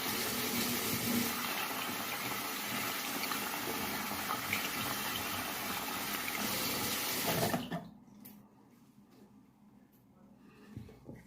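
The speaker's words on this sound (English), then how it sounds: "Last thing I'll do is wash my hands, of course." Hands are washed under a running tap, a loud, steady rush of water for about seven seconds that stops abruptly and is followed by faint handling sounds.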